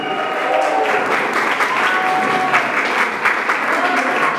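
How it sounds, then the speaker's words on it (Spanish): An audience at a mariachi performance for a birthday celebration claps steadily, a dense and fairly loud wash of applause, with faint tonal sounds drifting beneath. "el aplauso bien bonito"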